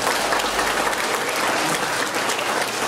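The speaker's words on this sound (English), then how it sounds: "Yes, we could give them a round of applause." An audience at the 2014 SEA results announcement in Trinidad and Tobago applauds in a dense, continuous wash of many hands clapping, fairly loud and steady from start to finish.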